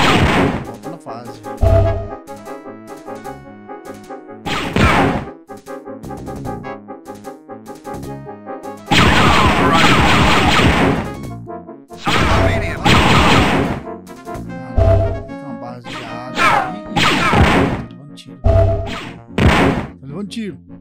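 Loud, punchy gunshots in the Dark Forces Remaster video game come in repeated bursts with short pauses between, some volleys sustained, set against a steady electronic background.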